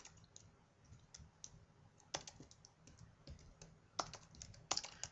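Typing on a computer keyboard comes through as quiet, uneven bursts of clicking keystrokes, close and soft, with no voices.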